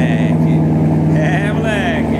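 A loud Corvette engine rumbles steadily and close by for the whole stretch, with a low droning tone and some higher rising whines, while someone talks over it.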